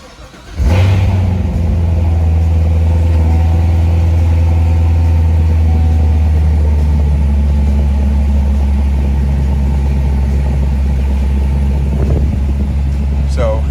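A car engine cranks and catches, then settles into a loud, steady, deep rumbling idle with slight revving, close by.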